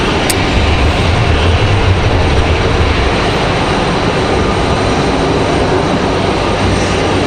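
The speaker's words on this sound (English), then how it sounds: "That Delta CRJ finding its way into a lot of our shots here the last few minutes." A Delta CRJ regional jet at Raleigh Durham airport produces a loud, close, continuous engine roar with a deep low rumble underneath, steady across the whole span and free of voices.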